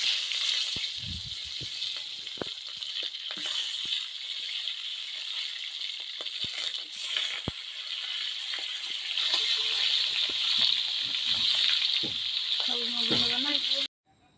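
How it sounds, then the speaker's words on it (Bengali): Fish frying in hot oil, a steady close sizzle with crackling hiss that swells louder toward the end, punctuated by occasional clinks and pan knocks. "তেল গরম করে মাছ ভেজে নিব"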